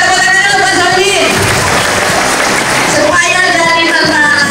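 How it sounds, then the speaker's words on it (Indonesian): An audience at an event in Cirebon, Indonesia claps throughout, a dense burst of applause that swells in the middle while a voice speaks over the beginning and end. "Tentara, tepuk tangan dulu buat Solihin."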